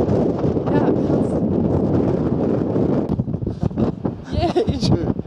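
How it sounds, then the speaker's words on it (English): Strong wind in Spain buffets the microphone in continuous low rumbling gusts, with some brief handling noise near the end. "It's windy in Spain."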